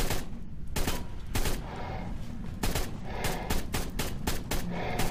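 An assault rifle firing in ARK: Survival Evolved, loud and close: repeated sharp shots in short bursts and single cracks, spaced irregularly across the stretch with no talking.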